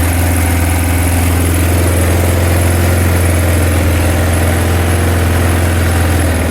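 A 2005 Kawasaki KLR 650 motorcycle with a push-pull choke idles steadily and loudly up close, its low engine drone continuous and even throughout, with no voices.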